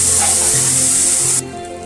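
A wet spice paste of turmeric, cumin and Kashmiri chili powder hits a hot pan with a loud hiss that cuts off abruptly after about a second and a half, leaving a quieter simmer.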